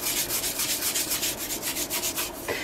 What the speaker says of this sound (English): And then I'm going to give this one a little bit of a scrub, because I don't want those loose pieces coming off either.